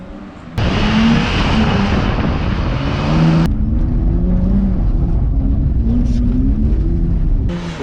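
A BMW 320i E36 with a modified exhaust drones loudly and steadily, the engine note rising and falling as it revs, close and continuous from start to finish.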